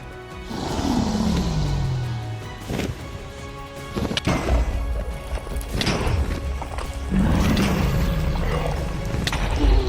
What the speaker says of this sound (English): So he rushes in and begins bed bombing